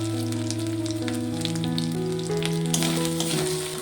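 Ground spices with ginger-garlic paste, turmeric and salt frying in a pan for a taro and prawn curry, a steady close sizzle with occasional stirring scrapes and no talk.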